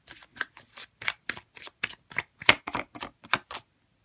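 Tarot cards being shuffled and drawn from a deck, a quick series of crisp papery flicks and snaps, close and clear, with no talk.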